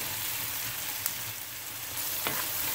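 Onions and mushrooms fry in the same pan just used for meat, a steady close sizzle with a couple of brief clicks from stirring and no speech.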